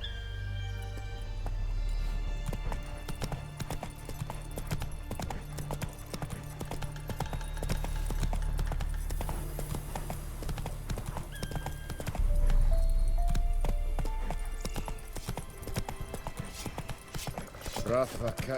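Roach the horse galloping in The Witcher III, rapid rhythmic hoofbeats on open ground with occasional whinnies, close and continuous over background game music and sound effects, with a voice speaking partway through.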